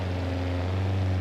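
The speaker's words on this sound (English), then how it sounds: "This has my custom exhaust that you can change the sound on." A custom car exhaust in the driving game BeamNG.drive holds a low steady drone, a loud close engine note that stays even through a short moment with no talk.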